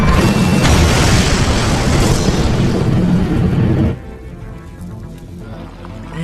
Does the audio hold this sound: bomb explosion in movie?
yes